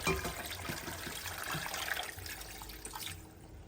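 Water pours steadily from a tap into a dish to cover couscous, a continuous close splashing gush that tails off near the end.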